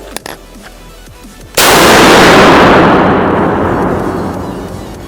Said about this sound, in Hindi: अब मैं फायर करूँगा तो नीचे वाला फायर होगा।